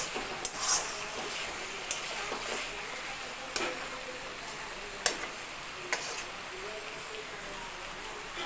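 Chicken kosha being stirred and fried in a pan: a low, steady sizzle carries throughout, with sharp, intermittent clicks and scrapes of a spoon against the pan every second or two.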